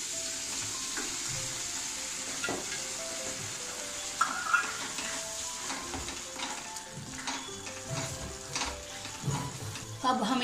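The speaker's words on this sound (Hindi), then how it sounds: "तेल हमारा रिलीज हो गया है, इसमें हम अब डालेंगे पनीर।" Paneer stirred and frying in released oil, sizzling steadily while a spoon scrapes and clatters in the pan with uneven bursts of stirring, fairly quiet and alone.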